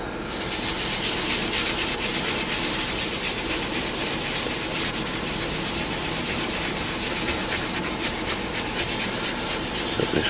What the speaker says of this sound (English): So just gonna take a bit of buffing out on it